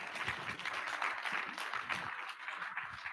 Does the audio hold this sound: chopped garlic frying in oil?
no